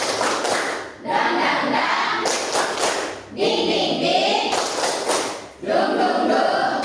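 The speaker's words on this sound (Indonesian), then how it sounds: "Dikasih aplaus buat Anda ya" A classroom group clapping in several short bursts of applause separated by brief pauses, close and fairly loud, with a voice briefly audible among them.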